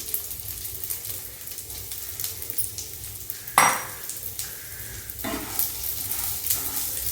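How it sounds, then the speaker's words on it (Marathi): Rice sautéed in ghee in a pan for narali bhat, a soft continuous sizzle with occasional scraping stirs and a sharper clatter midway, close and without speech. "आणि हे तांदूळ देखील तुपावरती चांगलं असं परतून घ्यायचं आहे"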